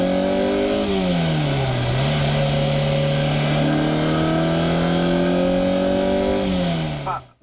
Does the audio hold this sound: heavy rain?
no